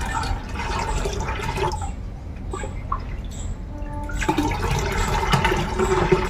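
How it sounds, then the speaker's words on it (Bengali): Water swirls and sloshes as about four litres of a home-made plant-nutrient solution are stirred and mixed, a close, busy liquid churning that briefly quiets in the middle before picking up again. "এবারে দ্রবণটাকে ভালোভাবে ফেটে নিতে হবে, মিশিয়ে নিতে হবে জলের সাথে।"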